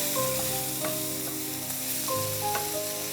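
Seasoned potatoes fry in a pan with a continuous bright sizzle and crackle. A few tonal beeps in the background sound like a phone or kitchen appliance.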